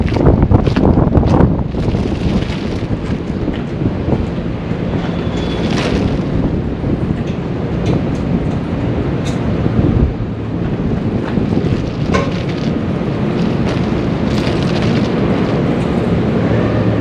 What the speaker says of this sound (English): because it's kind of windy